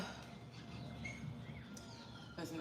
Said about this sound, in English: the birds have been singing since I opened up my eyes